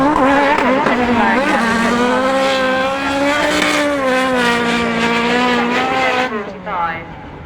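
Autograss race cars at St Neots on a dirt oval, engines screaming loudly and revving up and down through the gears as they pass close by, with a commentator's voice faintly underneath.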